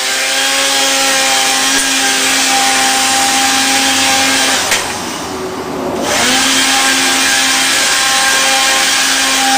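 A cordless broom, wired to a cigarette lighter plug, whines with a steady high-pitched motor hum that dips briefly midway before resuming, with no talking.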